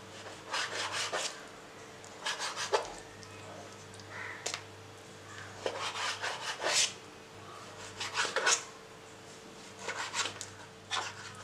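A knife slicing raw chicken into strips for crispy chicken fingers, heard as quiet, close, repeated scraping strokes on a cutting surface with brief pauses between cuts.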